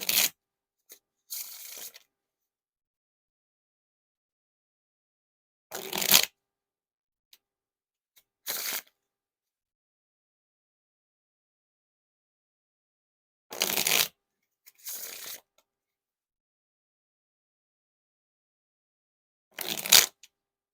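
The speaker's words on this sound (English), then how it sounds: "Now for the Riffle Shuffle or Bridge Shuffle." White Makers special reserve playing cards are given riffle, or bridge, shuffles in several short, crisp bursts of flicking cards. Quiet pauses fall between the bursts, and no one speaks.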